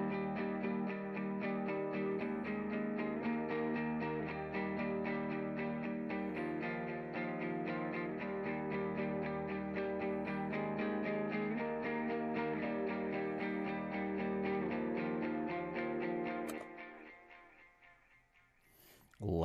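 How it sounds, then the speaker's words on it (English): An electric guitar plays an octave riff through a clean crunch tone with ping pong delay echo, loud and sustained alone, then fading toward the end. "Love that ping pong delay on the echo."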